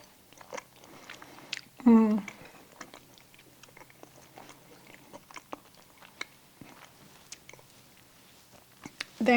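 Close, soft chewing and biting of a home-cooked copycat Olive Garden chicken pasta during a taste test, quiet mouth sounds in a calm room with a brief louder voice burst midway and again at the end.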